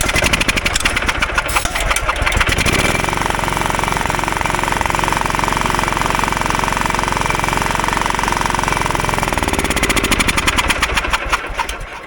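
A John Deere riding tractor mower engine runs steadily and loudly close by, a continuous rapid mechanical chatter. The throttle is eased back slightly partway through, so the pitch settles lower.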